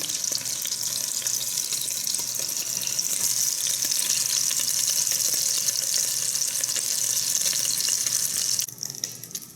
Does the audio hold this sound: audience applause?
no